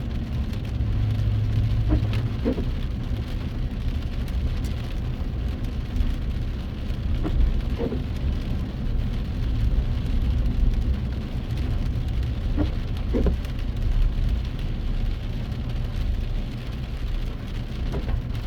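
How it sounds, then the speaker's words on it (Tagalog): Steady heavy rain pouring down with a low, continuous rumble, occasional faint splashes and passing traffic noise, no voices. "malakas yung ulan masama yung panahon"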